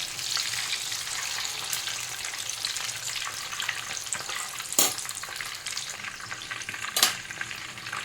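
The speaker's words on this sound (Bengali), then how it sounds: "এই পিঠটা উল্টে এই পিঠটাও আস্তে করে ভেজে নিতে হবে" Chicken drumsticks fry in a pan with a dense, continuous crackling sizzle and two sharp utensil clanks partway through.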